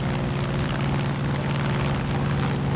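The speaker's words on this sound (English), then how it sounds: "They brought out the choppers?" Helicopters in the video game Far Cry 5 thrum loudly and steadily with a dense rotor and engine drone, continuous and close, with no talk over it.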